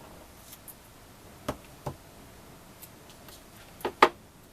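Scissors used at a crafting table to cut score tape, heard as a few faint, separate snips and clicks spread over a quiet background, with the last pair the sharpest.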